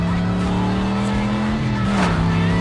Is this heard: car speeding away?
yes